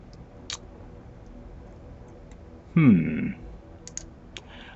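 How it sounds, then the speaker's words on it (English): A few sparse mouse clicks in an Eve Online game menu, with a brief louder interface chime in the middle over a quiet background. "We're clicking next."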